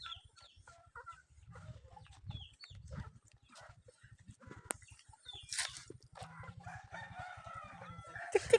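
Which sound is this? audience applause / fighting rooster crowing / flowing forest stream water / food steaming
fighting rooster crowing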